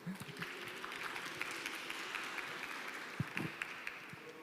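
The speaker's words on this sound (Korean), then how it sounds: "열정적인 강연 해주신 최종일 대표님께 다시 한번 박수 부탁드리겠습니다" A forum audience applauds a speaker after a lecture, a faint, distant patter of clapping with a few sharper individual claps standing out.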